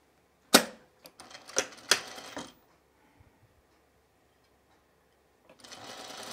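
A sewing machine stitching culottes rattles in a few quick bursts, pauses near silent, then starts up again in a steady run near the end.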